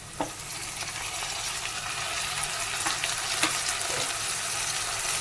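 Tomatoes and green chillies fry in a pan with a steady, dense sizzle and scattered crackles and pops, close and even throughout, with no voices.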